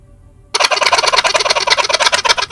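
Turkey gobbling in the Halo 2 Anniversary multiplayer map Stonetown, a loud, close, rapid warbling gobble that starts abruptly and carries on alone.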